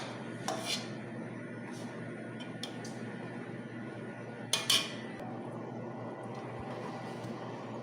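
Utensils lift cooked rice from a pot onto a plate for an Arabic-style rice and meat dish. Scattered metallic clinks and scrapes sound close over a steady kitchen background, with one brighter cluster of clanks midway.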